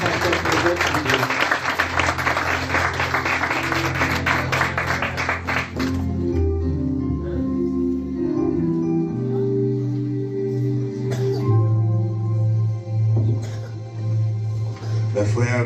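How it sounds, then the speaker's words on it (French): A church congregation claps in praise of the Lord at a worship service, a burst of dense applause for several seconds that gives way to sustained organ or keyboard chords with scattered voices. "Applaudissez le Seigneur, pasteur Prophète."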